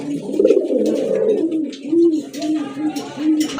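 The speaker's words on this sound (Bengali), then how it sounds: "মাশাআল্লাহ এক জোড়া রাজগোল্লা কবুতর" A pair of Rajgolla pigeons, red with crested heads, coo in close, repeated low throaty phrases, with faint background sounds around them.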